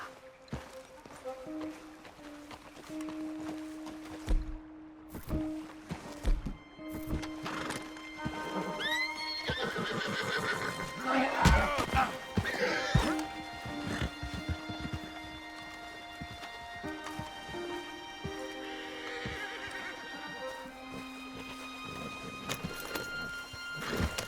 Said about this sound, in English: You could grab those horses if you want.